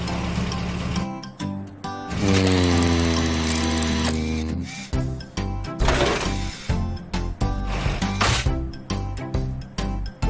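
A screwdriver works on the broken fender of a super spider truck damaged by a dinosaur, making rapid ratcheting clicks that come in bursts over a bright musical backing.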